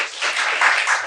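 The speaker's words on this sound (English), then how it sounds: "So give that a round of applause." A short, dense burst of audience applause at a talk or podcast taping, a continuous wash of many hands clapping, fairly loud and even throughout.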